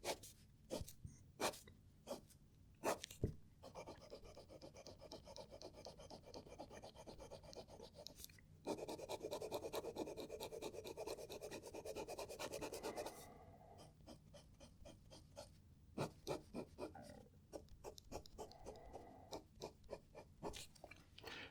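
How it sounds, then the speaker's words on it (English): A fountain pen nib fitted with a fairly stiff tip scratches across paper in Diamine Olive Swirl ink, giving close, soft rasping strokes. Short scribbles break into longer steady stretches, with no one talking. "I quite enjoy writing with this nib."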